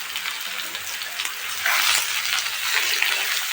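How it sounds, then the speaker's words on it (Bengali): Onion sizzles and fries steadily in hot oil in a pan after potatoes, for a soybean khichdi dish, a constant close hiss with light stirring touches and no talk. "পেঁয়াজটা দিয়ে একটু ভালো করে নেড়ে চেড়ে নেব"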